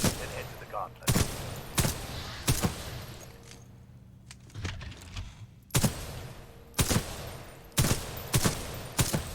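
Gunfire in the shooter Titanfall 2 during a training course: sharp single and doubled shots ring out at irregular intervals, loud and close, with a quieter stretch in the middle.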